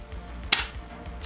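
An EMG Noveske N4 gas blowback airsoft rifle is dry fired, giving a single sharp metallic snap of the hammer in an otherwise quiet room.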